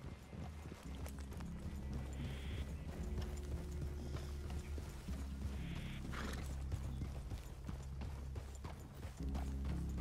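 Several horses walking in Red Dead Redemption 2, soft continuous hoof clopping with creaks and faint snorts, low in level throughout.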